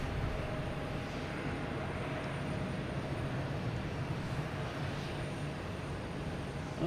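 A JetBlue Airbus A321 at Boston Logan Airport produces a steady, broad jet engine roar heard from a distance, with no talking.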